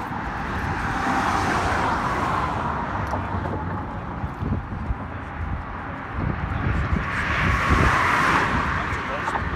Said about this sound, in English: You see there's a lot of cars going across the bridge over here.